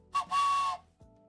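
A bullet train's whistle in a video game sounds twice, a short blast then a longer sustained steady tone, fairly loud, followed by a soft thump.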